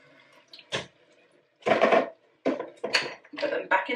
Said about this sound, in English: So now I'm gonna drain them. Drain them with a sieve.